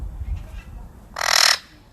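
An Australian parrot lets out one short, harsh squawk lasting about half a second, loud and fairly close, after a stretch of low background rumble.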